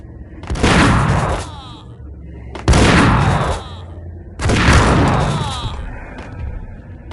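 Gunfire during a shootout in the Max Payne video game: three loud, heavy blasts about two seconds apart, each with a booming echoing tail that slowly fades, with no talking in between.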